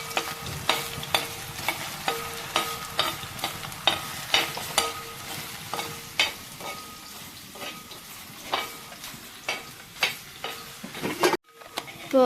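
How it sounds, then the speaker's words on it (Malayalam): Sliced potatoes fry in hot oil in a pan while beef fry is being cooked, a soft steady sizzle broken by regular sharp scraping clicks of a spoon stirring, close and fairly quiet. "ഇപ്പോൾ കിഴങ്ങ് ഇതുപോലെ ഒന്ന് ഫ്രൈ ആയാൽ മതി"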